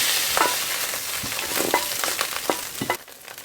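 Fish frying in a pan with butter or oil, a steady close sizzle broken by sharp crackles and spatters, with no talking.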